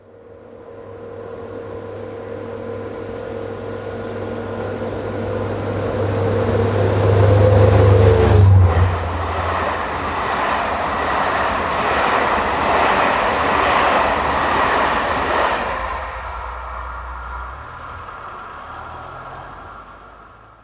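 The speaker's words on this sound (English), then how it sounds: "72147 heads towards the evening sun with the 1802 from Belfort to Paris" Locomotive 72147 hauls the 18:02 Belfort to Paris train past the village of Eruve on an evening run, its rumble swelling to a loud close pass mid-way, then easing off into a fading roll with no voices.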